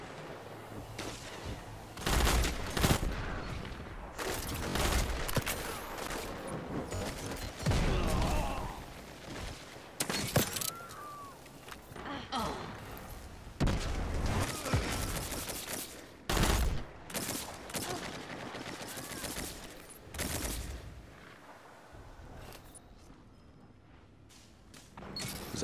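Rapid gunfire from fusion rifles and other weapons in the Destiny 2 Forsaken Black Armory multiplayer match, dense volleys and bursts of shots stacking loudly for the whole stretch with short lulls between.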